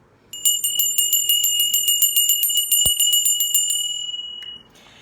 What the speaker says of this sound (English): let me start by ringing our bell